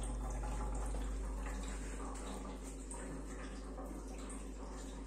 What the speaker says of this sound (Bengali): এই গামলাতে ঢেলে দিচ্ছি।